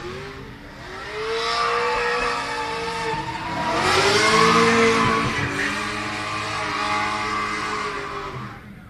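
Drift cars competing at a Drifting the Plains round scream past with rising and falling engine revs and long squealing tires, loud and sweeping as they pass through the course.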